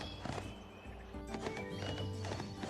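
Horse hooves clip-clop steadily while a horse neighs and whinnies in the Barbie: Wild Horse Rescue game, fairly close and continuous, with no talking.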